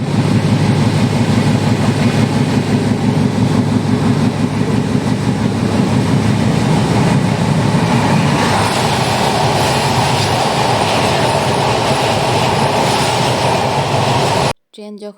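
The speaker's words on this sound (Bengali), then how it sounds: "একেবারে রাইট টাইমে আমাদের ট্রেন কুষ্টিয়ার উদ্দেশ্যে রওনা দিল।" Passenger train running from Dhaka toward Kushtia, a loud continuous rumble of wheels and carriage noise heard from inside, rhythmic clatter growing after a few seconds, then cutting off abruptly near the end.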